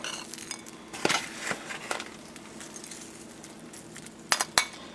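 A metal spoon scoops homemade green bean casserole out of a baking dish, giving a handful of irregular clinks and scrapes against the dish, with a double knock near the end over quiet kitchen background.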